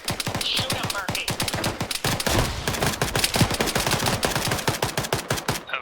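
Rapid suppressing gunfire in the military shooter Arma 3, loud, dense bursts of automatic shots cracking in quick succession almost without pause.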